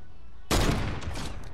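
Gunfire in Fortnite: a sudden loud burst of rapid shots that keeps rattling on for about a second, close and dominant, with no talk over it.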